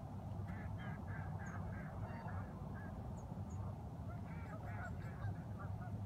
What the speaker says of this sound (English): A lot of ducks in front of me.